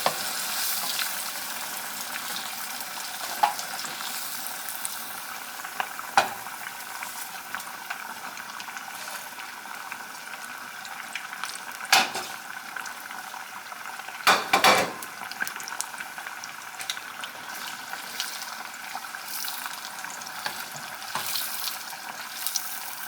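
Gluten-free beer-battered fish frying in hot oil gives a steady, bright sizzle that fills the whole stretch, broken by a few sharp clinks of utensils. No one speaks.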